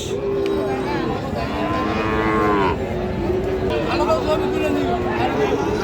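Cattle moo repeatedly at a busy weekly cattle market in Ghoraghat, Dinajpur, where Friesian and crossbred bull calves are sold. Long, drawn-out calls rise over a steady crowd murmur.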